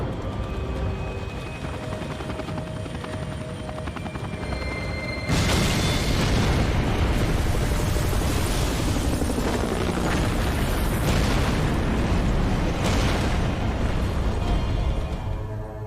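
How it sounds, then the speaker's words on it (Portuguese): Explosions in Max Payne 3 hit with a loud, sudden broadband blast about five seconds in, then a sustained roaring rumble with further bursts over continuous game noise. "Explodiu tudo"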